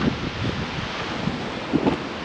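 Strong wind sweeps across a hilltop viewpoint near a temple, buffeting the microphone with a continuous rough roar and a few heavier gusts.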